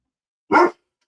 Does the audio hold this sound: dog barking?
yes